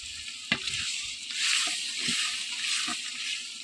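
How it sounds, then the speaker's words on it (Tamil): Water poured into a hot cooking pot of rice ingredients over an outdoor wood-fire stove, producing a loud continuous hiss and sizzle with a few soft knocks and stirring clatters. "இப்போ நம்ம தண்ணி சேர்த்திக்கலாங்க."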